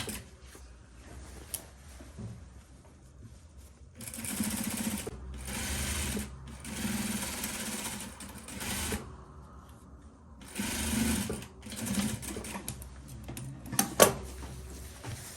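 A sewing machine runs several steady bursts of rapid stitching along a straight skirt seam, close and clear, with brief pauses between runs and no talking.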